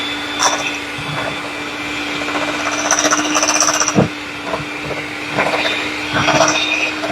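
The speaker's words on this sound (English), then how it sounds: "I'm trying to do this with my mixer just to make it a little faster, a little easier." Electric hand mixer beating pineapple upside-down cookie dough in a bowl: a steady close motor whir with a faint hum, rising slightly in the middle, with a couple of clunks against the bowl and no talk.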